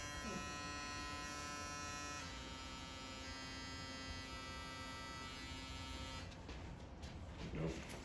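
Small electric pump built into a SAGA blood flow restriction cuff inflating it, a steady close buzzing hum that holds for about six seconds before cutting out.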